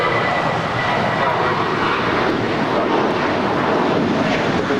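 A 10-year-old JetBlue Airbus A320 roars on departure from a large airport, a loud, steady broadband jet-engine rush that holds without letup, with some wind noise on the microphone.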